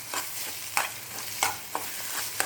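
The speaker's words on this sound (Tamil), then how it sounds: "நல்லா மிக்ஸ் ஆகுது மிக்ஸ் ஆகி நல்லா பொரியணும்" Egg masala podimas with vegetables frying in a pan, with a steady low sizzle and repeated sharp scrapes of a spoon stirring through it, close and fairly loud with no talk.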